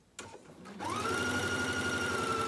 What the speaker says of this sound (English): I'm ready to start sewing.